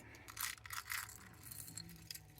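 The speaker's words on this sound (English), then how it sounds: "let's start sorting out these beads" Soft, close clinking and rattling of small beads from a bead mix being shuffled and sorted, in quiet scattered bursts.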